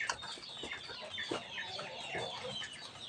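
Sick chickens cluck softly and repeatedly, several short calls overlapping in a quiet farmyard setting with no talking.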